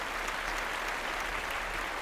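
An audience applauds at a school fashion show fundraiser, with steady, dense clapping that fills the whole stretch without a break.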